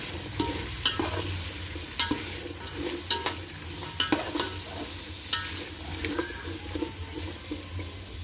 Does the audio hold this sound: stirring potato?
yes